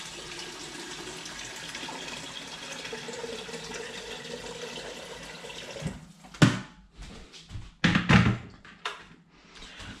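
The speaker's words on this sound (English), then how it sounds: "I've got a bunch of water that I've already boiled off in the kettle here that I'm gonna now kind of just go like that" Boiled water poured from a kettle onto spinach for palak paneer, a steady watery rush that gives way to splashy, irregular pours and clatters near the end, close and fairly loud with no talking.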